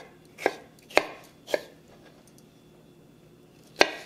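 A knife chops xoconostle on a cutting board for green salsa verde: four sharp, distinct thuds, three in quick succession and one after a pause, close and clear over a quiet room.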